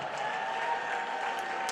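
A crowd at a tribute event gives a round of applause, steady clapping heard at moderate level beneath a sustained tonal hum, lasting under two seconds.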